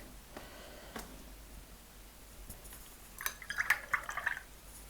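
Paintbrush swished and tapped in a water jar during watercolor painting, with a burst of small splashy drips and clinks near the end after a quiet start; close and fairly soft.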